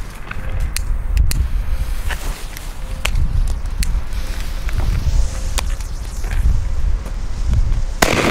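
Fire Event D-Böller firecrackers going off outdoors on a street at New Year's, a series of sharp, scattered bangs at varying distances over a steady background rumble, with a loud close blast near the end.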